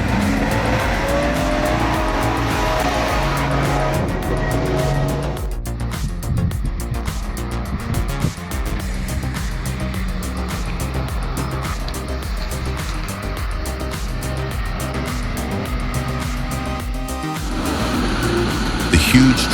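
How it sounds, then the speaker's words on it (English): A loud, steady heavy off-road truck engine roars throughout, with gritty high rumbling and a brief drop midway as the truck works hard nearby, driving into a stream. "The huge truck roared through the morning mist, lumbering into the stream."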